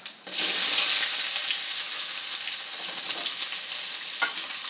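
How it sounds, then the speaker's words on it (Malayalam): Fenugreek and fennel seeds crackle in hot oil with a loud, dense, close sizzle that starts abruptly and holds steady throughout, with a light stir near the end and no talk. "പൊട്ടിക്കഴിഞ്ഞിട്ട് നമുക്ക് ഉള്ളി ഇടാം"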